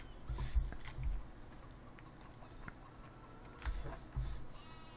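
Sheep bleating in the Farming Simulator 17 video game, a few faint, short calls in quiet surroundings, alone with no talk.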